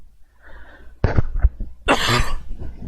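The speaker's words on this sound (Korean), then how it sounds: "아이고, 기침이 나네요." A person coughs a few times during a live stream, with short rough bursts and a longer harsh cough following a quiet start.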